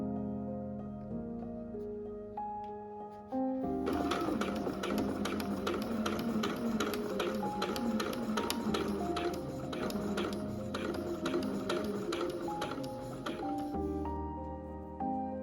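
A sewing machine runs steadily for about ten seconds, stitching the front flap of a vintage Vogue V9076 dress, its rapid even needle clatter loud and close, with quieter handling before and after.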